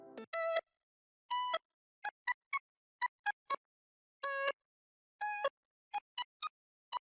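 Short monophonic synth pluck notes for a beat made in FL Studio play alone, quiet and bright, in a sparse pattern of longer tones and quick blips separated by silence.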